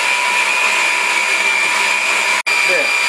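Flour, 220 grams of strong wheat flour, being mixed into magdalena batter with a whirring electric mixer. The steady, loud motor drone runs continuously and cuts out briefly near the end before resuming.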